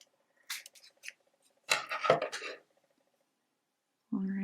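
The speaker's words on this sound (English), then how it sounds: "So then I'm going to cut this one as well." Scissors snip through a piece of a handmade needle-and-skein ornament, a few quiet close crisp cuts and rustles in an otherwise silent room, followed by a voice starting to speak.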